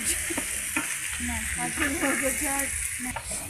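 Khichuri cooking in a pot at an outdoor winter-night picnic, steady frying sizzle with stirring scrapes, and a faint voice and background sounds drifting over it.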